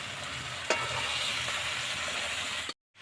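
Whole chicken stirred through frying masala in oil, a steady dense sizzle with scraping stir strokes and one sharp clatter early on, running loud and close before cutting off abruptly near the end.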